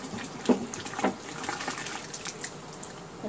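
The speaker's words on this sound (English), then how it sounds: "We pour in the remaining water." Water poured into a paper mache clay mixture of glue and water, heard as a couple of brief splashy gushes followed by a softer trickle, fairly close.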